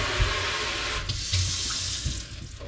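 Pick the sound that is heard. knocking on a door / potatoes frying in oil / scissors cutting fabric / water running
water running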